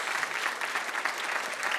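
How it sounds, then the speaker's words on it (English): Applause from an audience at the Inspiring Aberdeenshire 2023 evening event, honouring the Aberdeenshire Provost: a steady, dense patter of many hands clapping together for under two seconds. "Please give the Aberdeenshire Provost, Judy White, a round of applause."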